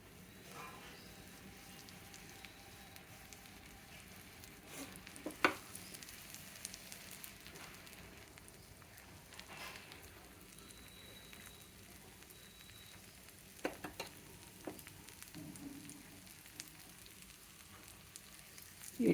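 Oil frying onion-chili coated dosa pieces in a pan for a tiffin: a faint, steady sizzling hiss with occasional soft crackles and pops throughout.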